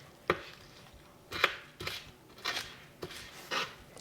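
A kitchen knife chops chives on a cutting board in six or seven separate, fairly close cuts, spaced irregularly, with no talk.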